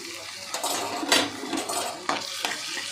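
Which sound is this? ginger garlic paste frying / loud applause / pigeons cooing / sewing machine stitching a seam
ginger garlic paste frying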